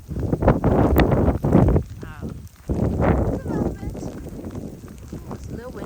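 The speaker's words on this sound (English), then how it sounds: "So far is about an inch outside. This is walking through." Crunching footsteps through about an inch of fresh snow during a windy first snowstorm, arriving in two bursts of broadband scuffing with a brief pause between, close to the microphone.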